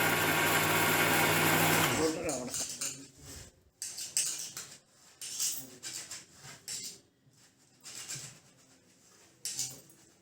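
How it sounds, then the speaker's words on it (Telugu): A mixer grinder finely grinding soaked rice, a loud steady high whirring motor for about two seconds that cuts off, followed by scattered clinks and handling noises under intermittent talk. "బియ్యాన్ని మెత్తగా మిక్సీ పట్టుకోవాలి."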